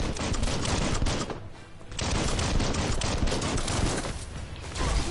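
Rapid gunfire keeps going almost without pause as an enemy is shot in the video game Biomutant, with a brief dip in the middle. It is loud, close and dense, and no voices are heard.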